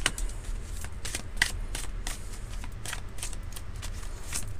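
Playing cards shuffled, handled and laid down one after another in a steady series of crisp flicks and slaps over a soft low background rumble, close and moderately loud, with no voices.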